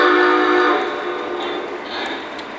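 A model train locomotive runs on a layout, making a loud, steady sound with a whistle-like tone that fades a little and then holds.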